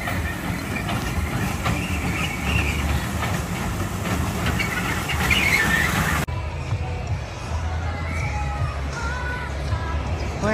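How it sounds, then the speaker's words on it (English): Small amusement park train at Worlds of Fun in Kansas City rumbling and hissing steadily nearby amid outdoor park ambience, with a brief voice heard. "Look at the cute little train."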